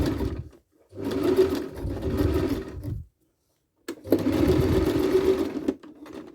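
A sewing machine stitches a wedding dress during an alteration, running in two loud, steady bursts with a short pause between them, close by and without talk.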